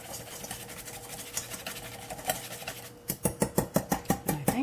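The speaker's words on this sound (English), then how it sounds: "And then I'm just going to take a whisk" A whisk stirs a low-carb, gluten-free lasagna mixture in a mug: soft scraping at first, then a rapid series of sharp rhythmic taps and clinks against the mug, close up, with no talking.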